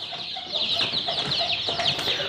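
Free-range village chickens in a pen during vaccination, clucking and squawking in a busy, overlapping chorus at close range, with no speech.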